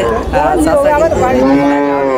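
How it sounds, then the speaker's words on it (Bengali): Dairy cow at a cattle market giving a loud, close, drawn-out moo lasting about two seconds, with no talk over it. "এটা হচ্ছে বাড়িতে পোষা গাভী গরু।"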